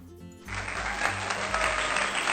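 Warm applause of many hands clapping at a steady, dense rate in a children's lesson, starting abruptly and continuing loud and even to the end.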